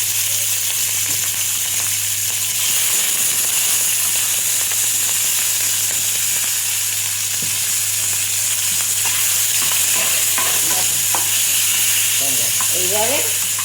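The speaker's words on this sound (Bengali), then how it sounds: "শুধু একটু নুন দিয়ে চিংড়ি মাছটা ভাজা করবো, হলুদ দেবো না।" Prawns frying in hot oil with a little salt, a loud continuous sizzle and hiss with occasional stirring clatter, close up and steady throughout.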